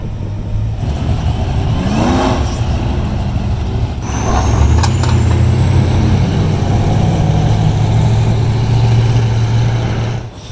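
A Chevrolet Corvette engine rumbles steadily at a muscle car cruise, a loud continuous low drone that swells after a few seconds and holds, with other traffic engine noise around it.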